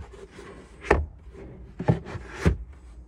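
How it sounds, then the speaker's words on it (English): The false floor in the boot of a SEAT Arona 1.6 TDI SE Technology hatchback is shifted and locked, giving three sharp, close knocks of hard board against trim, each followed by a short scrape. "you've got a false floor, which will lock in place."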